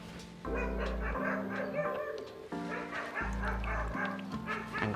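A dog barks and yips repeatedly in agitated bursts, fairly close, with whimpering tones between barks and faint voices in the background.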